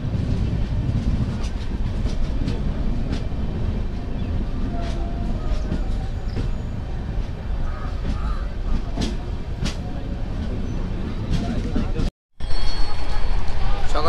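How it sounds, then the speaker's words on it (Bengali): The 13151 Jammu Tawi Express runs on with a continuous loud rumble and rhythmic wheel clatter heard from inside the carriage, cutting out briefly near the end. "এবার ট্রেনে উঠি আর নেক্সট স্টেশনে আসছে সেই অযোধ্যা ধাম।"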